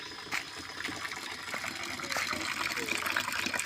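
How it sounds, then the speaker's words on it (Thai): Water pours and gushes steadily into a container to soak cassava stems outdoors, a continuous splashing rush with some brief knocks. "เตรียมน้ำไว้แช่ลำนะ"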